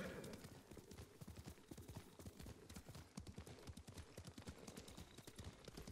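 Clip-clop of horse hooves at a steady trotting rhythm in the Ghost of Tsushima video game, close and continuous, with a brief whinny and no talk.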